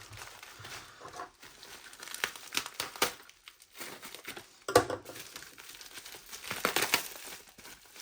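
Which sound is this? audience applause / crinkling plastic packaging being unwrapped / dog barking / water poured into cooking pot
crinkling plastic packaging being unwrapped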